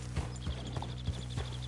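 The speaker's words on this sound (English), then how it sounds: "Horse." Horse hooves clip-clop in a steady, evenly spaced rhythm in the Red Dead Redemption 2 video game, close and clear over a continuous low ambient drone.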